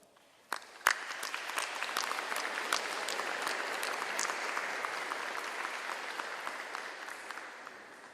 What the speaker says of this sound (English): the rest of us would give all of them a round of applause